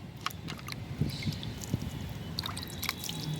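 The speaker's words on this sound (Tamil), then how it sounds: "இதை நான் இப்போ தண்ணி ஊற்றி நான் கலந்து காட்டுறேன்" Water poured from a vessel into red soil being mixed as a potting medium, giving soft drips and trickles with a few faint splashes; quiet and close, with no talking.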